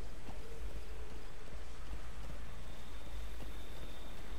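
A horse walks in the Metal Gear Solid V game, soft rhythmic hoof clops plodding along under a constant loud low rumble of game ambience.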